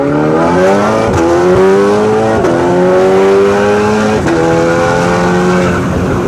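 A Stage 3 tuned car accelerates hard, its engine note climbing loudly through several gears with sharp drops at each shift, heard up close and continuous.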